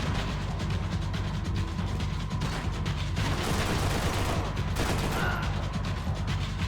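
Gunfire in the video game Max Payne 3 comes as dense, loud, continuous bursts of shots, with a heavier barrage in the middle amid mechanical clatter.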